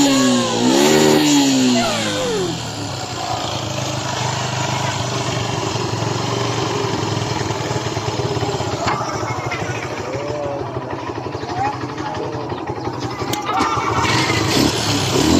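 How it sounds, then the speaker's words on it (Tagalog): A Suzuki Gixxer 155 motorcycle with hard starting and intermittent running starts up and revs loudly, then settles into a steady rumbling idle with occasional throttle blips, close by. "So, on natin kanyang motor at pandarin na natin."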